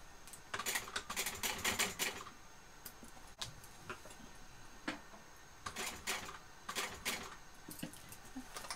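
A sewing machine sews a box stitch on a mini backpack in several quick runs of rapid, even mechanical ticking, separated by short pauses. It sounds soft and close.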